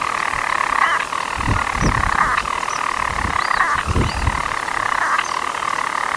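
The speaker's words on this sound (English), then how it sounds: "And this is the sound of some stone petrels." European stone petrels purring from a nest at night, a continuous churring trill with rising chirping notes repeating every second or so, close and steady over low rumbling background noise.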